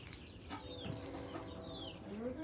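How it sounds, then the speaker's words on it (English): A farm chicken clucks faintly in short, scattered calls against a soft outdoor background, with a few higher bird chirps mixed in. "The chicken."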